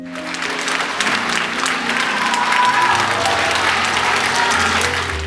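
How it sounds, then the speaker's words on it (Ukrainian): A standing audience applauds performers at a charity marathon concert, steady dense clapping filling the room at close range, with a low sustained musical tone underneath toward the end. "Глядачі стоячи аплодували артистам"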